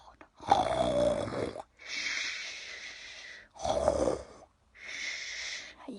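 A storyteller's voice imitates a bear snoring during a picture-book reading, two long rasping snore breaths each followed by a hissing exhale, loud, close and rhythmic.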